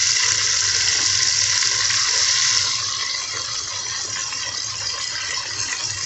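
Chopped tomatoes go into frying onions for biryani, with a steady, close sizzling hiss that runs throughout and softens slightly partway through.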